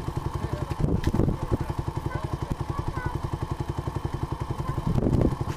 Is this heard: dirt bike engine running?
yes